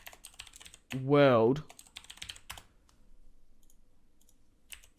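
Computer keyboard keys clatter in quick bursts of soft clicks while a player works through Football Manager 2016 menus, with a short voiced tone breaking in between the typing runs.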